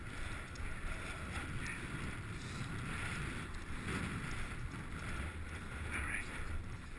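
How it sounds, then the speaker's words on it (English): Wind rushing steadily over the microphone on a cold, windy outdoor bike ride with a helmet-mounted camera, a constant broadband roar with small gusts and no clear talk. "It is windy and it is cold."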